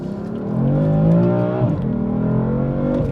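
BMW M3 engine revving up and holding a strong, resonant note with a brief dip before settling into a steady drone, loud and close with no talking.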